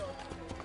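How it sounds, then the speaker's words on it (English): Horse hooves clip-clop in the Assassin's Creed Brotherhood video game, a few soft hoofbeats half-buried under a steady game and voice backdrop. "Oh, that's my horse."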